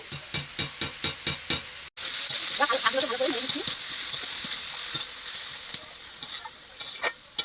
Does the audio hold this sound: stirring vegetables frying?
yes